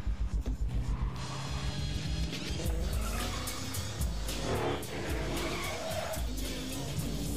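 A police car in the Battlefield Hardline video game drives hard and skids, with tire squeals and engine roar over a busy game soundscape, loud and continuous with repeated screeching bursts.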